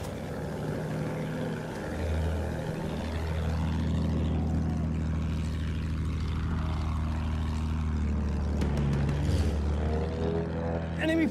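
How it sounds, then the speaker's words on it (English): An enemy attack plane in Battlefield 1 drones loudly throughout with a steady propeller engine roar and rumbling battlefield noise, with brief distorted shouts near the end. "I got an enemy plane moving around!"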